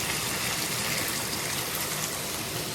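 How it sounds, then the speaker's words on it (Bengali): A small splash of water pours into a cooking pan holding tomato paste and chili powder for a Bengali papad curry, a steady close, broadband gush lasting a few seconds with no talk. "এবার সামান্য একটু জল দেবো"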